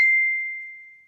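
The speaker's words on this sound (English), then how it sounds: "Everybody, whenever they hear a ding," A computer notification sounds once as a single clear, bright ding, sharp at the start and then ringing out in a long, smoothly fading tone with nothing else around it.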